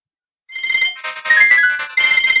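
A mobile phone ringtone plays loud and close, a bright repeating electronic melody in three bursts after a brief silence, with no talk over it.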